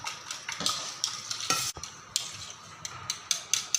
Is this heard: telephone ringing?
no